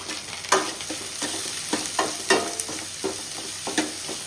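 Turmeric powder fries in a hot pan while a spoon stirs it, giving a close, crackling sizzle with a rhythmic series of scraping strokes. No voices are heard.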